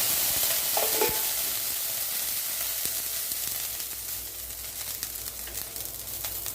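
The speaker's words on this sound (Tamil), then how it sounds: "இந்த பக்கம் எண்ணெய் விட்டு கடுகு கருவேப்பிலை சீரகம் ரெண்டு வட்டமிளகாய்" Mustard seeds, curry leaves, cumin and dried red chillies sizzle in hot oil for a South Indian tempering, a steady close crackling hiss with small pops that runs throughout.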